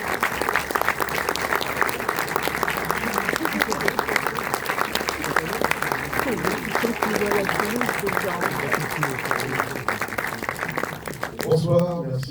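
Audience at a film preview screening in Nantes applauds steadily for director and actor Fabrice Eboué, dense clapping holding for about eleven seconds before it fades and a voice begins.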